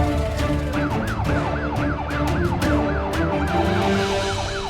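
A police siren wails loud and close in a children's cartoon about a roadblock for burglars, its rising and falling tone cycling rapidly and repeatedly over a dense layered backdrop of other sounds.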